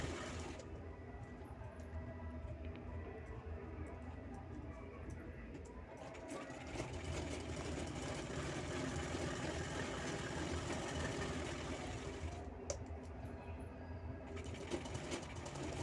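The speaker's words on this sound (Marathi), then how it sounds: "तसंच दुसरी पट्टी पण शिवत आहे मी" A sewing machine stitches a fabric strip for a handmade bag, its needle whirring in a steady, rapid mechanical rhythm that runs nearly continuously with brief pauses, close and prominent.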